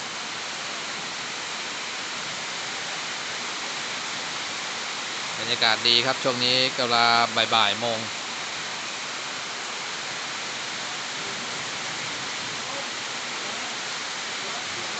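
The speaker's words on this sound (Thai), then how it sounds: "ฝนกำลังตกเลยทีเดียวเนี่ยเย็น" Steady rain falls with strong wind near the Lamphun–Chiang Mai border, an even hiss throughout, and someone talks briefly partway through.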